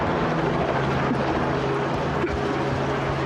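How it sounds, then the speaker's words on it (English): Helicopters flying overhead produce a steady, loud rotor drone with a low throbbing hum that fills the whole stretch without letup and without any voices. "They had helicopters flying overhead, but they never did anything."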